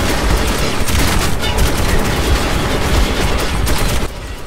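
Enemy gunfire in the video game Metro 2033 Redux, loud sustained bursts of rapid shots and automatic fire close by, continuous for about four seconds before easing off.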